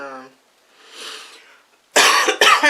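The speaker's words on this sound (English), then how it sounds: "That's why I'm coughing." Two harsh, loud coughs close up, following a brief bit of voice and a quiet breathy sound.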